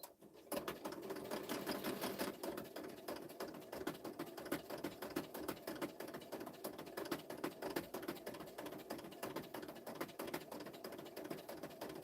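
A sewing machine stitches through a paper craft project in a fast, even mechanical patter that runs continuously at moderate level, close by and without speech.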